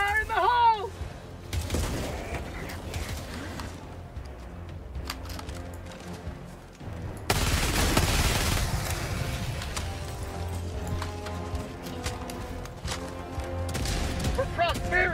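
Grenade explosion and gunfire in Helldivers 2: dense rattling bursts of automatic fire with a heavy blast midway, loud and continuous, mixed with game sounds and voices talking over the action.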